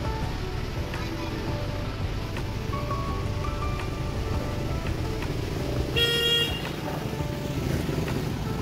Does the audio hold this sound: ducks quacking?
no